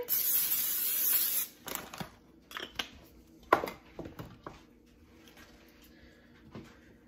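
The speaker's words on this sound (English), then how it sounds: "Spray it with some nonstick spray." A loud hissing burst of nonstick cooking spray into a bundt pan for about a second and a half, followed by clinks and light handling sounds of the pan.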